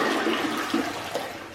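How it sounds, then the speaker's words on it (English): A commode flushing as it is repaired: a loud, steady rush of swirling water with gurgles, close to the bowl and with no one speaking. "go ahead and flush this commode"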